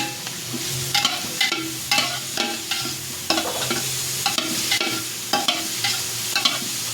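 A garlic and ginger mixture frying in a pan for pork Bicol Express, the steady sizzle broken by regular scraping strokes of a spatula, close up with no voices.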